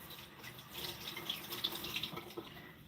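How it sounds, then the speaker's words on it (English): A habanero pepper is rinsed under a running kitchen tap, a steady close stream of water splashing with small drips and spatters throughout. "So let me wash our pepper."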